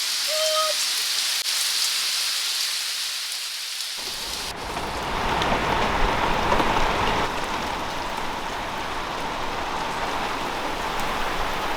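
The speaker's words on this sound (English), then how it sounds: "All of a sudden, it's like heavier rain." Heavy rain in Huahine, French Polynesia, hisses as a dense, loud wash that suddenly thickens after a few seconds into a steady, roaring downpour, with no talking.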